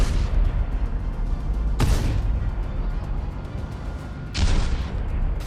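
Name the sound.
Leopard 2 tank firing its gun at a building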